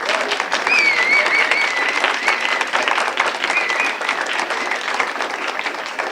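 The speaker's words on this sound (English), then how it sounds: "If we could have one more round of applause for them." An audience claps for a panel at a community solar event, dense and fairly loud applause filling the room for several seconds, with a few faint voices and whoops mixed in.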